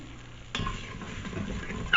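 Chopped onion drops into a pressure cooker set on high saute and starts sizzling abruptly, then gets stirred around with soft scraping under a continuous crackle; short and close, no speech.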